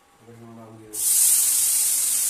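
Potatoes dropped into a hot pan while making Maggi noodles burst into a loud, steady hiss of sizzling oil that fills the rest of the moment, right after a short hum.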